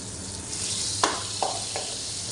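Butter sizzles steadily in a hot saucepan, with a few soft crackles and light pops over the continuous hiss.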